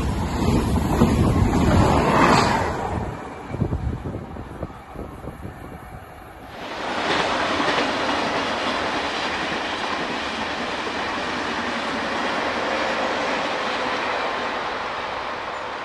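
A Thalys/Eurostar high-speed train passes Stolberg (Rheinland) station on the Cologne–Aachen line, first as a loud, close rushing roar and then as a steady, broad rumble that carries on to the end, with no voices.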